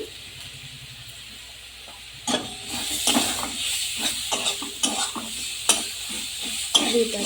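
Kashmiri chili powder and spices frying in oil for a potol chingri curry, a quiet start giving way to a loud, steady hiss and sizzle as the mix is stirred, with repeated spatula scrapes close by.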